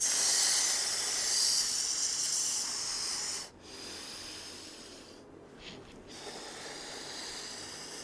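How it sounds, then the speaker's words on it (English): Slow, deep breathing during a recovery stretching session, a long airy hissing exhale followed by quieter inhales, close to the microphone, with soft breathy pulses after a pause. "Breathe in. And breathe out."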